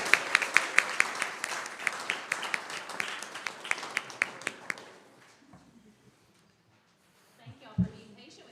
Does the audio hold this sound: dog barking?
no